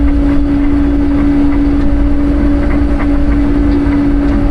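A John Deere 750K bulldozer's engine runs steadily at a cruising idle around 1800 rpm, a loud continuous diesel drone with a strong low hum and no voices over it.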